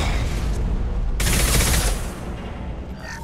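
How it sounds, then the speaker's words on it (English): A high-impact gunshot in the video game Mass Effect 2, a loud burst of blasts and crackling that swells partway through over steady heavy combat noise, with no talking. "Firing a high-impact shot!"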